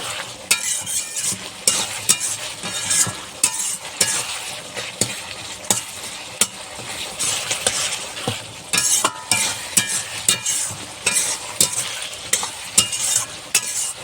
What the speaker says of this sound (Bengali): তারপরে একটু গরম মশলা দেবো একটু ধনে পাতা দেবো দিয়ে একটু নেড়ে ছেড়ে দেবো